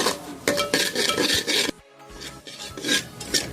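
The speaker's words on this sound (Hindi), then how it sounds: "सूजी को हम ब्राउन होने तक भूनेंगे।" Semolina roasting in melted ghee over a medium-low flame for sooji dry fruit gujhiya, stirred continuously with rough gritty scraping strokes against the pan, close and rhythmic, with a brief lull midway.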